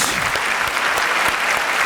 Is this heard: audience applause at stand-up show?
yes